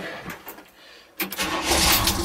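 A 1958 Chevrolet Apache big-window pickup with a 327 V8 cranks briefly, then catches and fires up, settling into a loud, close, steady rumble.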